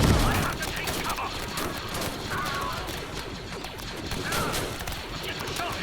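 Dense gunfire crackles continuously in a Star Wars Galaxy at War mod battle defending a Clone Wars base. Rapid overlapping shots and volleys form a busy, sustained barrage close by.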